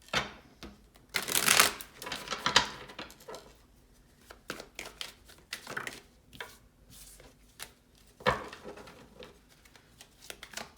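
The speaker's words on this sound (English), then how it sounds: "Okay, last shuffle." Playing cards are shuffled in several quick riffling bursts, crisp and close, with softer taps and handling sounds between them.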